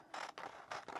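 Scissors cut out a paper picture for a gluebook, two quick close snips with a soft scraping rasp, no speech.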